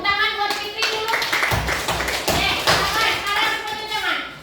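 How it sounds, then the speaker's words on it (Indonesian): A classroom of children claps for a student in a sixth-grade lesson, a burst of close, uneven hand claps with thumps and taps mixed with young voices. "Oke, tepuk tangan buat Fitri dulu."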